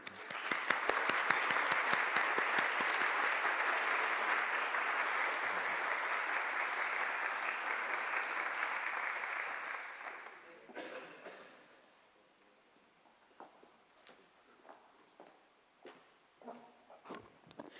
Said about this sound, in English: big applause for USP